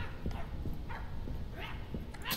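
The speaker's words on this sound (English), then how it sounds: "No, no, bad dog" Puppet dogs in the video game My Friendly Neighborhood bark and yip in short repeated bursts, about five sharp barks spread over a couple of seconds amid low game noise.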